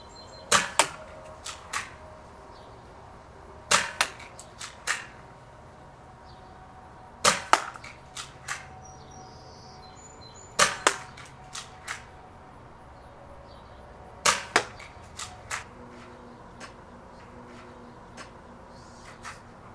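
Dart Zone Max Outlaw toy blaster fires darts on a range, sharp snapping shots in spaced clusters of two or three, each followed by fainter clicks, clear against a quiet background.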